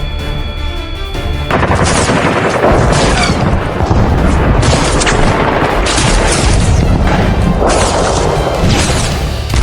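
Loud, dense booms and rapid gunfire blast continuously, overlapping into a chaotic barrage of explosions and shots.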